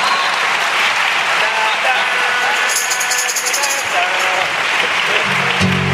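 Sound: audience applause

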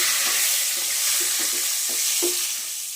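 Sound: bay leaves sizzling in hot oil for chicken curry

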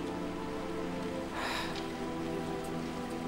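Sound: rain falling

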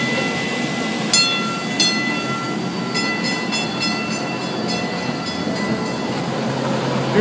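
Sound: subway train car passing

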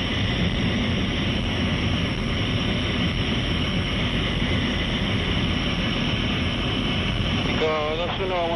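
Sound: English Electric Canberra bomber jet, Rolls-Royce Avon engines, after takeoff

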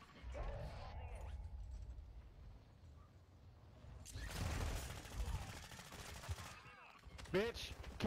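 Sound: gunfire hitting the player in a video game

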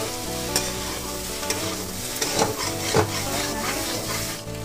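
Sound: stir-frying soybean chunks with spices in a pan

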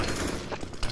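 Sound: AK rifle gunfire in video game CS:GO

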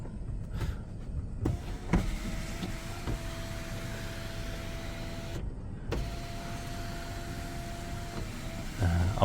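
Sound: sunroof opening and closing on Lexus RX270 2012

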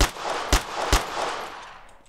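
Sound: gunshots in the video game DayZ

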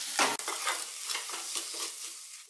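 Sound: mixing amchur, chili powder, anardana and copra stuffing in pan

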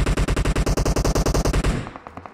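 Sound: gunfire from a teammate in the video game PUBG Mobile

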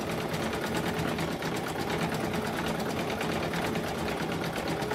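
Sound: embroidery sewing machine stitching snowballs in the hoop

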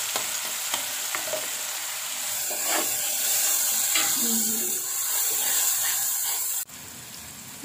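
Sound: stir-frying green chili with ginger, galangal and bay leaves

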